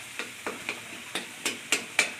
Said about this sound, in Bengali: মশলাটা ভালো করে ভেজে নিই।